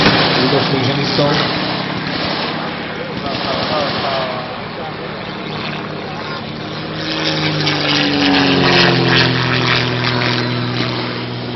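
German WWII propeller aircraft drone overhead during a battle reenactment, a sustained engine roar that swells and recedes with a rising pitch sweep near the end, while someone narrates over it.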